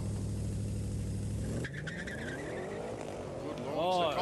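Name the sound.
drag race cars launching, Commodore SS versus Golf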